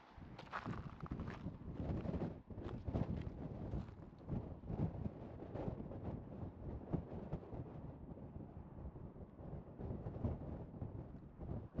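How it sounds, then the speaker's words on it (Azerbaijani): Strong, continuous wind in Iceland buffets the microphone with heavy low rumbling gusts throughout, loud and close, with no talking. "Hava çox küləklidir."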